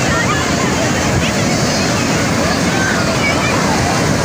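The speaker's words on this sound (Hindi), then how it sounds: "आवाज़ सुन सकते हैं आप लोग, समंदर की आवाज़ सुन सकते हैं।" Sea waves crash on Turtle Beach in Karachi, a loud, continuous wash of surf heard up close with no pauses throughout.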